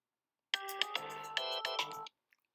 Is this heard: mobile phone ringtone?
yes